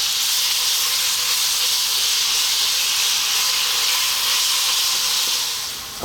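Ground minced beef sizzles in hot olive oil over fairly lively heat, a loud, steady, close hiss and crackle that holds evenly throughout and eases slightly at the very end.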